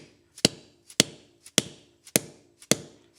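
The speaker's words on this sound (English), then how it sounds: "I'm going to take a dead blow hammer" A dead blow hammer strikes a River Trike bracket six times in a steady rhythm, each blow a sharp, close, loud thud with a short decay, no talking.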